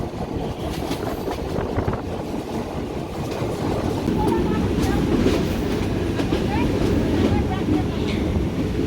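The Ruposhi Bangla Express running on rails toward Jessore station, a loud, steady rumble and rattle of the carriage from inside, with faint clicking wheel noise throughout.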